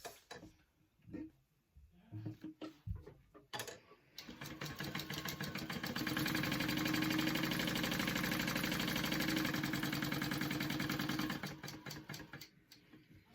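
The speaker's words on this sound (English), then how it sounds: "I'm going to sew around it." A sewing machine stitches a pocket onto a mini backpack, running in a steady loud whir for several seconds after a few short starts and handling clatter, then slowing and stopping.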